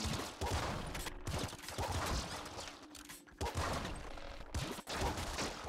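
Plasma rifle blasts in Nuclear Throne, rapid bursts of crackling shots in quick volleys with brief gaps between, fairly quiet and mixed with other game effects.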